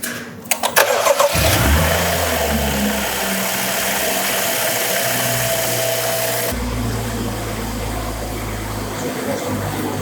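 A rebuilt BMW X5's N55 engine cranks briefly with a few sharp turnover pulses, catches, and settles into a steady, close idle that drops to a lower, smoother hum partway through.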